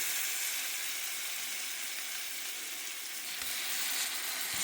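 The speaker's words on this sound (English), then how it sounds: "We're gonna make sure it gets a nice sear, a nice dark, crust." Rum cream French toast sears in a pan with a dense, even sizzle that holds steady and close throughout, with no voices.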